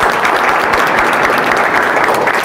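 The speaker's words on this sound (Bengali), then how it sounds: "এই মানুষটির জন্য আবার হাততালি দাও।" Dense, steady applause from an audience fills the whole stretch at a New Year celebration held at a defence training academy, loud and continuous with no pauses.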